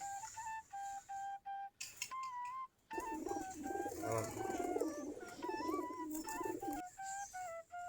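Native breed pigeons coo steadily and close by, a flock's repeated throaty calls overlapping in a rolling rhythm with brief pauses, with no talking over them.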